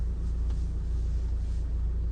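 Cars pass nearby on a street, making a steady low rumble of traffic with no talking.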